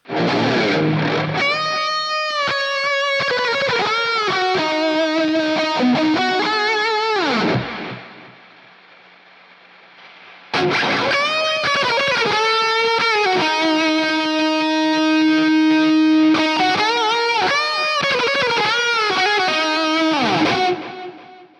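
A distorted electric guitar through a Josh Middleton STL Tones plugin lead solo preset plays a sustained lead line with a washy reverb tail. It stops for a few seconds, then returns with long, singing notes.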